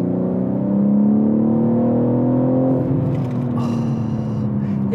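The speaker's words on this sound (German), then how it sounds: "Jetzt werden wir doch gleich einmal ganz kurz Gas geben." A BMW M3 Touring pulls hard under throttle, its engine note rising steadily and loud for several seconds inside the cabin before easing off.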